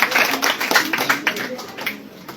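A classroom of students claps during a quiz competition, a brief burst of close, uneven hand claps that thins out over about two seconds, with voices in the background.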